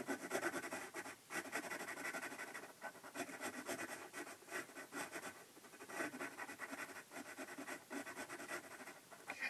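Watercolor pencil scratching across textured paper while shading, a close, continuous dry rasp in uneven strokes with brief pauses between them.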